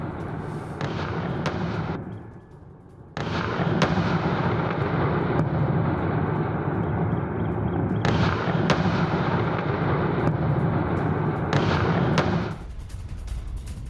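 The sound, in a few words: explosions from missile strikes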